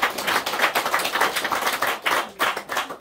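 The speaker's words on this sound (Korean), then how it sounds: "우리 하나님께 영광의 박수를 올려드리겠습니다" Church congregation applauding after a hymn, gathered in person for worship: dense, steady clapping from many hands filling the room, continuous with small surges and no voices on top.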